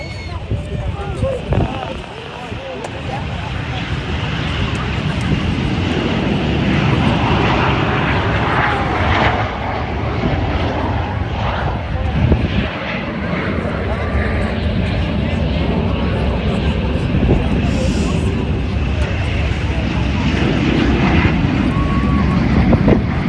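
Patriot Jets Team jets taking off together at a Travis Air Force Base airshow, a loud, sustained roar of jet engines that swells and holds throughout, with an announcer and crowd voices underneath.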